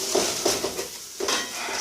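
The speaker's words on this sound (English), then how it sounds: "some more stirring." Bhuna curry being stirred in a pan: a spoon scraping and clinking against the metal in a few uneven strokes, close and fairly quiet, over a faint sizzle.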